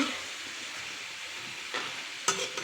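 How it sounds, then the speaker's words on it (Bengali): Green banana and potato pieces stirred through spices in a pan make a soft, low frying hiss. A couple of sharper scrapes of the spoon come near the end. "এখন মশলার সাথে আলু কলা সুন্দর করে আমি নাড়াচাড়া করে কষায় নেব"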